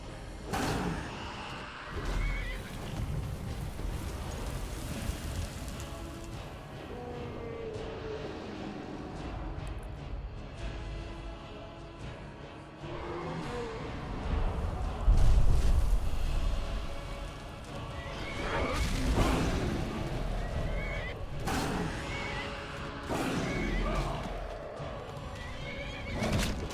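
Horse neighing and whinnying in the game Skyrim, with clip-clop hooves, thumps and combat noise around it, moderately loud with no talk.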